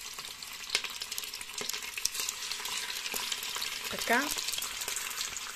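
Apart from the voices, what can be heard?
sausage frying in an Instant Pot Pro multicooker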